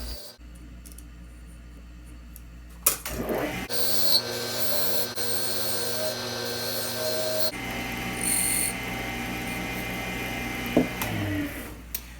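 A wood lathe hums steadily while a tool scrapes and rasps against the spinning wood, sizing a tenon in bursts, with a few sharp knocks and a pause between cuts.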